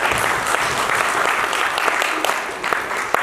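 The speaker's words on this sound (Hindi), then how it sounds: "तालियां हो जाए इसके लिए।" Audience applause at a product training session: steady, dense clapping from a roomful of people, loud and sustained throughout, with a few sharper claps standing out near the end.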